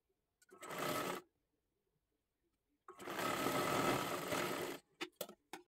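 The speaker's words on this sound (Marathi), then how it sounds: "आता हे आपल्याला शिलाई करत करत घ्यायचं आहे" A sewing machine stitches a blouse lining, running in two close bursts, a short one and then a longer run of about two seconds, each followed by a few quick clicks and stops.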